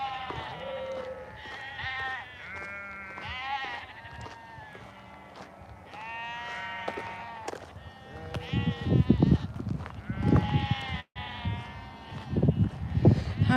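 Sheep bleat again and again at close range on a warm countryside walk, long wavering calls overlapping one another, with rustling and louder handling noise building in the second half.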